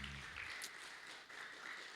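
Members of a church youth congregation on only the left side clap together, a faint, steady patter of hands heard from a distance in a quiet room.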